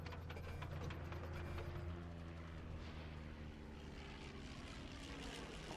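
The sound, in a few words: airplane flying in video game Down in Bermuda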